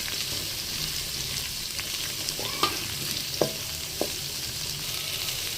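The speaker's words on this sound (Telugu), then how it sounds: "ఇందులో ఇప్పుడు ఆనియన్స్ వేసేసుకుందాం. వేసుకొని దూరగా వేయించుకోవాలి." Onions frying in a pan, being stirred for bhindi tadka, give a steady soft sizzle with a few distinct metallic clinks and scrapes of a spoon, close by and without voices.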